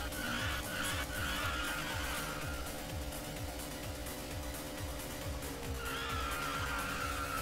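Drifting car in the Initial D arcade racing game, with continuous engine roar and repeated tire skid squeals pulsing throughout, loud and close, with no talk over it.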